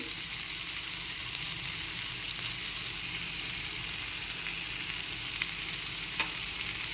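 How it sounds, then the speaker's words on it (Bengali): Raw mango chutney with turmeric and salt sizzles and fries steadily in a pan while being stirred, a continuous bubbling hiss with a faint clink near the end. "হালকা নেড়ে চেড়ে এর মধ্যে দিয়ে দিচ্ছি হলুদ গুঁড়ো আর দিয়ে দিচ্ছি নুন"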